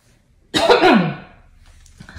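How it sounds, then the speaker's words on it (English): A single loud, rasping throat clearing, close up, fading into quiet afterward. "got to clear my throat chakra"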